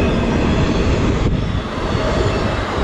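Long CSX intermodal freight train passing in Erie, Pennsylvania, a loud, close, continuous rumble and rolling roar of wheels on rail, steady throughout with no talk.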